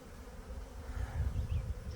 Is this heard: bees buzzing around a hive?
yes